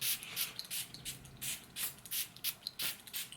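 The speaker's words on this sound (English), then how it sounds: "Let's just spray the jade." A jade aura spray mist spritzed in a string of quick, soft hissing bursts, about a dozen short pumps in an uneven rhythm, close and fairly quiet.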